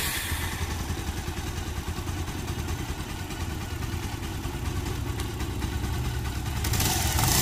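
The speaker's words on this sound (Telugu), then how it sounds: "ఇప్పుడు ముందుగా బండి అనేది స్టార్ట్ చేద్దాం." A motorcycle engine runs at a steady idle close by, a continuous low mechanical chug with light clatter and no talk, rising slightly in level at the very end.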